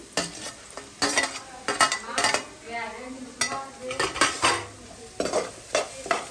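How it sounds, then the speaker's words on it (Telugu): Onions fry in a pan with ginger garlic paste, stirred in repeated scraping strokes over a soft sizzle, close and fairly loud with short pauses between bursts. "ఇలా మగ్గిపోయాక దీంట్లోనే అల్లం వెల్లుల్లి పేస్ట్ వేసుకోవాలి"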